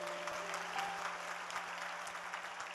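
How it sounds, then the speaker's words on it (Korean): Church congregation applauding in a steady, sustained round of clapping from a whole crowd, moderately loud and continuous with no voices on top. "우리 나은이 박수로 맞읍시다."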